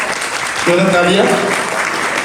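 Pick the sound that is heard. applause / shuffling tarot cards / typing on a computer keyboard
applause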